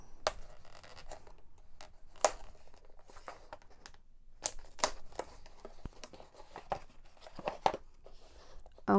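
Packing tape being torn and peeled off a taped-up parcel from a Japan haul, with repeated sharp ripping and scratching bursts, some crinkling of packaging, close and irregular throughout.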